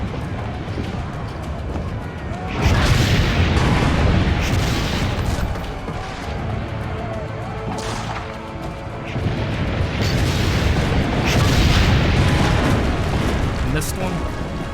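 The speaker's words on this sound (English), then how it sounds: "One-time practice of manning the cannon comes in handy." Cannon fire in the video game Assassin's Creed: Brotherhood, with repeated loud booms and bursts of battle noise rolling over a dense background while voices talk throughout.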